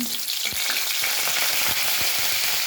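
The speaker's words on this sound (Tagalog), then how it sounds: "maglalagay natin ng bawang" Garlic frying in a pan for Filipino beefsteak gives a loud, steady sizzle throughout, with a few sharp clicks of stirring and no talking.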